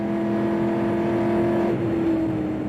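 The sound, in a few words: race car accelerating, onboard at Le Mans 1968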